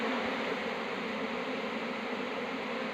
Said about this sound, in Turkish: arı yerine gitmek istiyor fakat ana orada olmadığı için şu anda kovana yoğun şekilde girmeye çalışıyorlar